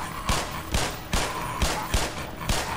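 Gunfire in the video game Black Mesa: six evenly spaced, loud single shots, each a sharp crack with a short decaying tail, fired one at a time over steady game ambience, with no voices.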